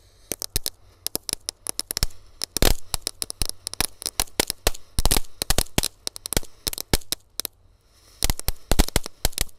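Lit firecrackers set off for New Year, going off in a dense, irregular run of sharp cracks and pops, loud and close, with brief gaps between bursts and no talking.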